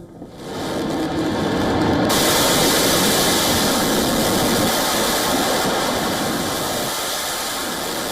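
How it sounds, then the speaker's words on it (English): Jet engines roaring on an aircraft carrier deck, a loud, broad, sustained rumble and hiss that swells in within the first second and then holds steady, with a slight shift in tone partway through and no voices. "The carrier's deck is a hive of activity, missiles loaded, engines roaring"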